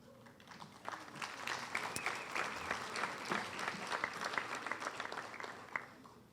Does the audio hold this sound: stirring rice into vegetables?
no